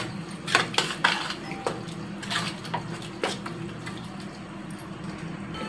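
Yogurt, chilli powder, garam masala and biryani masala being stirred into a pot of biryani, with a metal spoon clanking and scraping against the pot in a few distinct strokes, fairly close, then quieter scraping.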